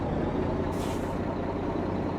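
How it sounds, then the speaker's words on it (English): A truck's air brake lets out a steady, loud hiss inside American Truck Simulator, lasting about two seconds over a low engine rumble and brightening briefly partway through. "there's a truck coming up the side here"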